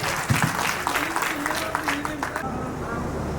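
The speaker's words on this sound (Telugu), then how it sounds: "క్లాప్ చేయండి ఫ్రెండ్స్ అందరూ." Audience clapping at a tenth-class silver jubilee reunion celebration, a steady patter of many hands with crowd chatter mixed in, fading out toward the end.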